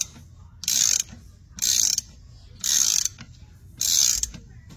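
A balancer installer tool turned with a big socket to pull a harmonic balancer onto an engine crankshaft: four separate bursts of loud ratcheting clicks, each about half a second long, with short quiet pauses between them.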